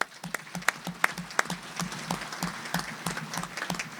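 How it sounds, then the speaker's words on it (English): Scattered hands clapping for event sponsors at a breakfast forum, a small audience producing distinct individual claps rather than a dense roar, fairly close and steady for several seconds. "another round of applause for our sponsors"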